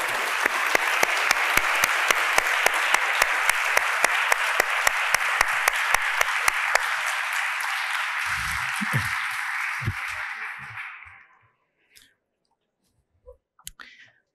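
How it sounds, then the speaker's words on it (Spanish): Applause from an audience at a crime-fiction event in Valladolid for the organising team, a sustained burst of clapping with sharp claps standing out, fading after about ten seconds into near silence with a few small knocks and handling noises. "Un fuerte aplauso para el equipo"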